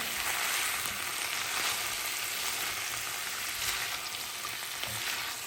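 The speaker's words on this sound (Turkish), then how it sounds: "Sebzeleri de koyup karıştırıyorum." Chicken and vegetables frying in a little oil in a pan for noodles, a dense continuous sizzle with occasional stirring scrapes, close and fairly loud, no one talking.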